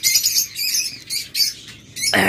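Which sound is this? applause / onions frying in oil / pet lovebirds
pet lovebirds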